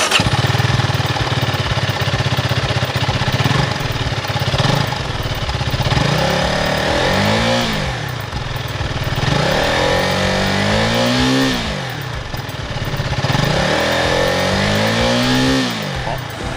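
A 2023 Zontes 350S cruiser motorcycle with a 350 cc engine and a stock, untuned exhaust idles loudly, then revs up repeatedly in three or four rising and falling bursts.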